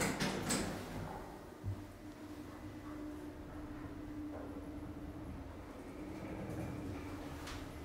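Sliding doors of a 1993 VAC-controlled express lift in Weston-super-Mare closing, heard as a steady mechanical whir with a soft thud early on and faint motor hum throughout.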